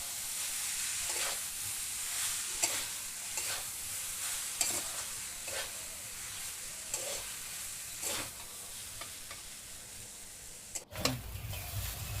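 Chow mein being stir-fried in a pan with onions and chillies, giving a steady close sizzle and hiss with repeated scraping stir strokes and a sharp clatter near the end.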